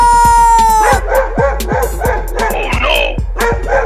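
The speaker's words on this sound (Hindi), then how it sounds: "देख भौंक रहा है।" Cartoon dog barking repeatedly in a comic Hindi animation, a run of sharp, loud yelps and barks close up with yipping, whiny tones, heard alone without talk.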